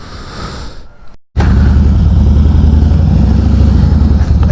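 Harley-Davidson Fat Boy motorcycle with a 1600–1700cc engine pulling away through town, with a quieter stretch and a brief dropout followed by a loud, close, continuous low engine rumble that holds steady to the end.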